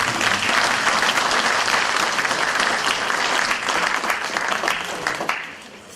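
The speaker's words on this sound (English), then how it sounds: "A round of applause for Professor." Loud, sustained applause from a large crowd, dense clapping that holds steady before tapering off at the end.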